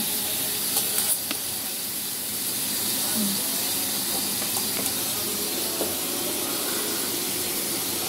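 Steak frying in a hot pan, giving a steady, loud, broadband sizzle and hiss that runs unbroken from start to end, with no clear talking.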